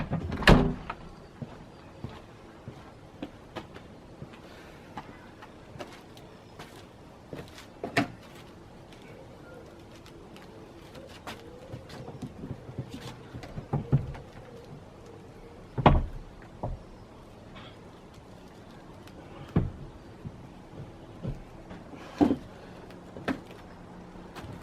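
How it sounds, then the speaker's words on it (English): A Mercedes-Benz S-Class W221 door is worked off its hinges in a garage, with scattered metallic clunks, knocks and thuds spread over a long stretch, some sharp and close, with occasional speech. "So now I can get this whole door off."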